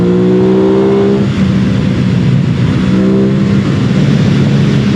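An Aprilia RS 660 twin-cylinder sport motorcycle revs hard and steadily, its loud engine note layered with throaty airbox intake roar, a continuous close drone with slight pitch shifts as the throttle opens.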